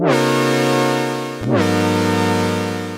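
A bright, buzzy sawtooth synth tone from the Muse synthesizer, with a short filter click at the start and a second swoop where the filter envelope retriggers, sustained and loud with no talking.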